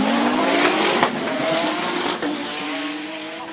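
A Toyota MR2 Super GT race car idles loudly at the start line of a Cape Town hill climb, its engine droning steadily with tire squeal and skidding noise mixed in, close and continuous.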